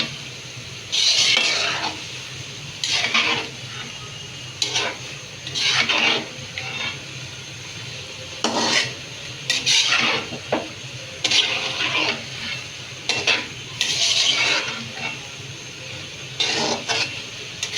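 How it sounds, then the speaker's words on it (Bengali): Mutton is fried and stirred in a pot with chana dal on hand, repeated bursts of scraping and sizzling in uneven strokes, close and fairly loud, with no talking. "আমরা মাংসটা কষিয়ে নিচ্ছি।"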